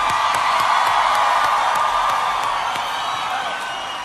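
A large concert audience cheers and applauds for a band, a dense wash of clapping and whoops rolling on continuously, loud and close, then easing slightly toward the end.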